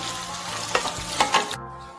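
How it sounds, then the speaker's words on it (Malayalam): Chicken sizzles and crackles steadily in hot oil, with a few louder pops and spatters near the mic, then the sizzle continues more quietly. "ഓയിൽ ചൂടായപ്പോ ചിക്കൻ ഇട്ട് കൊടുത്തിട്ടുണ്ട് കേട്ടോ നമുക്ക് പൊരിച്ചെടുക്കാം"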